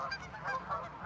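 Geese by a pond honk in a quick run of nasal calls, fairly near and moderately loud, with no voices over them.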